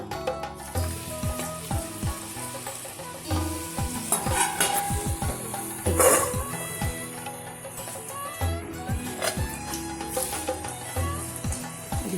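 Ragi (finger millet) murukku dough fries in hot oil with a loud, continuous bubbling sizzle, close by, broken by frequent sharp clicks and scrapes of a utensil against the pan.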